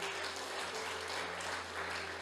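Short burst of applause from a church congregation, steady, dense clapping from many hands over a low background hum, lasting a couple of seconds.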